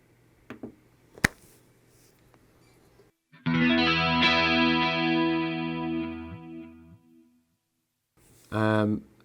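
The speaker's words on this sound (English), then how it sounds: "So I would go chorus, and then I want to do the reverb." Clean electric guitar through a Line 6 Helix with chorus, reverb and delay, a few taps and plucks followed by a strummed chord ringing out with shimmering decay, then another brief chord.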